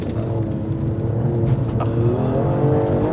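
An Alfa Romeo Stelvio Quadrifoglio engine drones and revs steadily through a hairpin bend, a loud, close, continuous mechanical roar with rising harmonic tones and a faint tire squeal, no voices.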